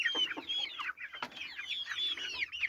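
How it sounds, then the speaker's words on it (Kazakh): A flock of chickens clucks and chatters continuously and close by as the birds head into their coop, with overlapping short calls and a few sharper squawks. "Көздері жанған балапандар, көздері жанған тауықтар."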